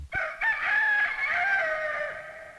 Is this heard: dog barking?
no